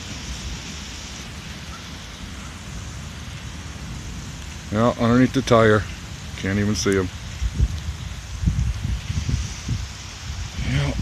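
Heavy rain pours steadily around a porch and a parked truck during a thunderstorm, a constant broad hiss filling the background while people talk briefly in the foreground.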